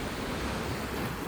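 Mediterranean Sea waves wash onto a beach, a brief, steady broadband rush of surf that sits close and fairly loud, with no voices.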